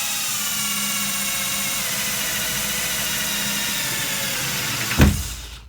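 A Parkside PBSA 12 C2 12V cordless drill with a detachable chuck drills a hole with a 5 mm bit in a steady, loud whir. It ends with a sharp bump as the bit breaks through and the motor winds down.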